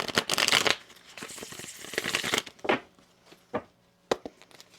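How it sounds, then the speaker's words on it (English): A deck of tarot cards is shuffled close up in quick riffling bursts, followed by a few sparser taps and slaps as the cards settle. "One more shuffle."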